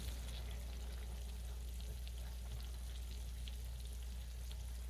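Green tomatoes fry in a crowded skillet with a steady, quiet sizzle and crackle, constant throughout with no talking.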